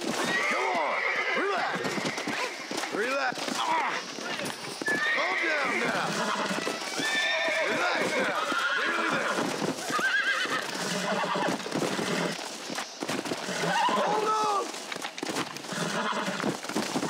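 Horse neighing, whinnying and clip-clopping hooves during horse breaking in the Red Dead Redemption video game, repeated loud whinnies throughout with people talking over them.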